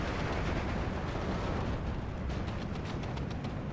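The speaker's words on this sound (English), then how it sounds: "Bucklewolf coming in for a bombing run." Dense, continuous rumbling explosions from a bombing run in the Steel Division 2 wartime strategy game, a loud steady roar of blasts with no gaps or talk.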